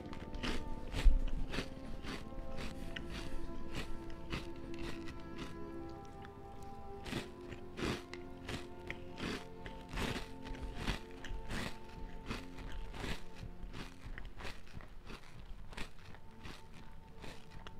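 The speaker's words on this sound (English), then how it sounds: "This cereal is super crunchy." Someone chews crunchy cereal close to the microphone, giving a steady run of sharp crackling crunches at a regular chewing rhythm that lasts throughout.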